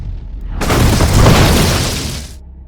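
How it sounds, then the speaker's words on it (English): A taxi car's fuel tank blows up after being shot: one loud, close explosion that bursts in suddenly, roars broadly for under two seconds and then cuts off. "they destroy both of them in a terrible explosion by shooting at the gas station of the car"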